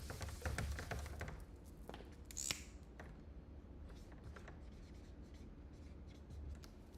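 A marker squeaks and rubs across a board in short strokes and taps, close and fairly faint, with a sharper squeak partway through.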